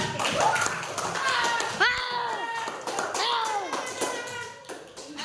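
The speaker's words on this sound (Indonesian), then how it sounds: "Aplaus dulu untuk kalian" A class of children claps for one another, bursts of light hand claps and tapping mixed with children's voices talking and calling out in a room.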